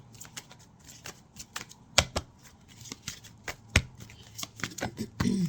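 Tarot cards shuffled close up in a steady run of crisp riffling snaps and slaps, with a few louder flicks and a brief murmur of voice near the end.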